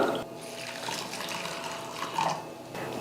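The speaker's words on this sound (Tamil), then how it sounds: "இதே கப்ல ஒரு கப் அளவுக்கு தண்ணி அளந்து சேர்த்துக்கலாம்." Water pours and splashes into a bowl of oats, a steady trickling flow with a brief louder gush near the end.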